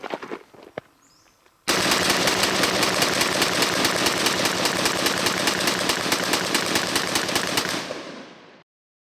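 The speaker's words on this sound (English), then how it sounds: "That was quite the little mag dump." A Para Marauder AR pistol rips through a Lancer L5 Advanced Warfighter magazine in one long rapid string of shots, loud and close, each report tightly spaced for about seven seconds before cutting off abruptly.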